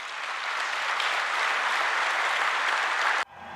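Loud, steady crowd applause at a large gun association event in Texas greeting former President Trump, dense and continuous before cutting off abruptly near the end.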